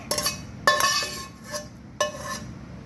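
A metal frying pan clatters and clinks in a few sharp, separate knocks while cooking minced meat and mushrooms for instant-noodle larb, fairly close and moderately loud, with short ringing tails between them.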